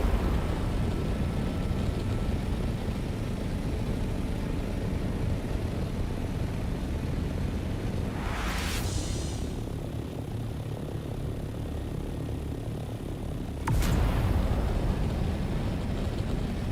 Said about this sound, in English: The chopper is a beast.